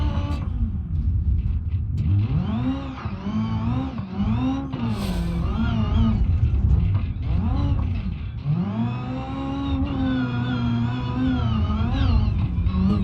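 Car engine in BeamNG.drive, a Grand Marshal with straight-cut race gears, revs up and down steadily, a loud gear whine rising and falling over a deep rumble throughout with no talk.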